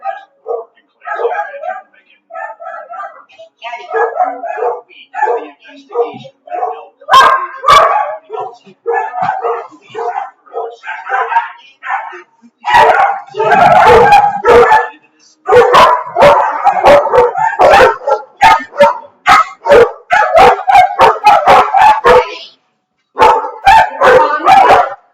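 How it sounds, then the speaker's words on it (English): A dog barks loudly and repeatedly, with quick bursts of sharp barks and a few yips, mixed with people talking, especially in the first half. "No barking."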